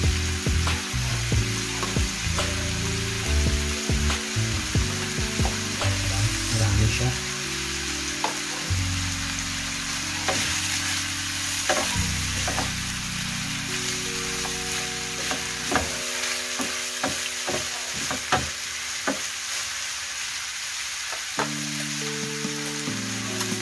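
Ampalaya (bitter gourd) fries with pork tapa in a pan, giving a loud, continuous crackling sizzle broken by frequent scraping and clanking of a stirring utensil, close up and without talk.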